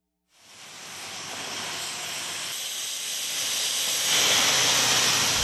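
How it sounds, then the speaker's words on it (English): Steam locomotive 2719 releases a loud, continuous hiss of steam that starts abruptly and swells steadily, growing louder toward the end, close by and alone. "the sights and sounds of the 2719 steam engine"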